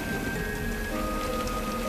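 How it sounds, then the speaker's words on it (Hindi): Steady rain pours in a horror story scene, a dense, loud, unbroken hiss of falling drops with a faint tonal hum beneath and no voices. "तेज बिजली कड़कड़ाने के साथ बारिश होने लगती है।"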